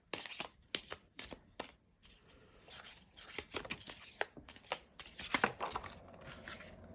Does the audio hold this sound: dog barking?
no